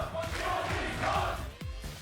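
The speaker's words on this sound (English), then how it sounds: "The crowd erupts in cheers." Arena crowd at a League of Legends esports regional final roars and cheers as the Nexus falls, a dense sustained wall of voices with a sharp impact near the end.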